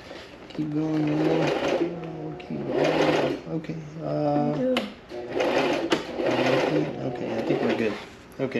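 A sewing machine runs in bursts while stitching a custom seat cover for a vintage motorcycle, its whirring motor stopping and starting close by as people talk over it.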